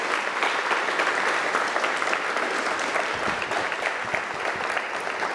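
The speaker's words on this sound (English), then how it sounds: "I'd like for you to give them an applause" Sustained audience applause at a 2022 PA graduation ceremony, a dense, steady wash of clapping from a large crowd that holds at an even level throughout.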